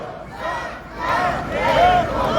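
A protest march crowd in Batumi chants in unison, loud rising and falling collective shouting that swells toward the end.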